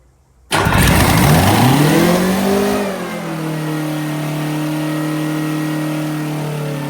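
A Detroit Diesel 6-71 engine with an open exhaust cranks and roars to life very loudly, revving briefly before settling into a steady, rumbling idle with a harsh, unmuffled exhaust tone.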